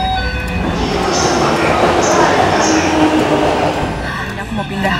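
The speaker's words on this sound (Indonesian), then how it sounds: "Kita masuk ke dalam kereta Jepang." Interior of a Japanese commuter train in Tokyo running along the line, with a steady rumble and rattling, faint wheel squeal, and voices murmuring over the continuous carriage noise.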